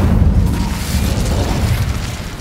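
Incendio fire spell blast in Hogwarts Legacy, a heavy booming whoosh of flame that rumbles loudly and steadily with a dense low roar, no voices present.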